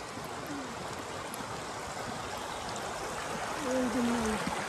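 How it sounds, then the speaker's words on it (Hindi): Steady rushing of a mountain stream in Old Manali, a continuous close broadband flow, while two men converse over it and a brief tonal whistle sweeps near the end. "पानी फ्लो"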